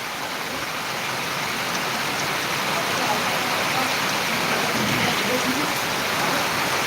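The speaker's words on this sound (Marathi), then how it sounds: "खूप जबरदस्त पाऊस चालू आहे अजूनसुद्धा" Dense, steady hiss of heavy monsoon rain pouring down without a break in Buldhana, Maharashtra, loud and even throughout.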